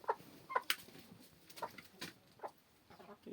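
Free-range laying hens clucking nearby in short, irregular bursts, with a few sharper squawks early on, outdoors in winter.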